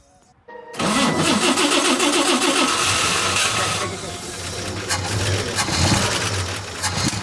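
An old truck engine, 68 years old, cranks and catches, then runs loud and rough at a steady idle with some mechanical rattle; no one talks over it.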